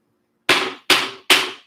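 Three sharp hammer blows on nails, about half a second apart, close and loud with quick decay and no talking, while a wooden loom is being built.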